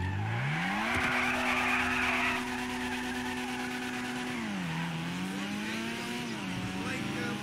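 Grotti Brioso 300 Widebody car driving in a video game: a steady engine drone climbs as it accelerates, holds, then dips and rises through gear changes, with brief tire scrubbing and a voice talking over it.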